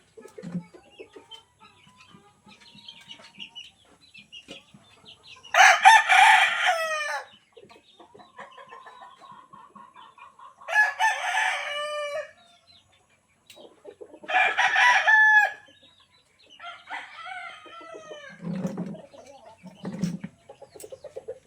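Gamecocks being readied for cockfighting crow loudly three times in long bursts, with softer clucks and low calls between and afterward, in a quiet farmyard.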